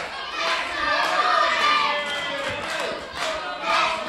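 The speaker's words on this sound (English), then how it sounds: "The crowd are going absolutely wild for him." A wrestling crowd at a live WrestleForce show in Loughton yells and cheers loudly, with high excited voices swelling and surging in waves.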